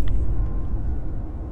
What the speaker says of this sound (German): Nein, aber einfach das Gewitter, oder?